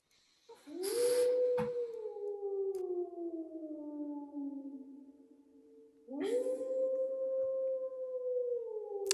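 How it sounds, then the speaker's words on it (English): Wolves in the woods give two long howls, each rising and then slowly sinking, and the second begins as the first fades. Loud and close, with no talking. "you do hear the howling of wolves"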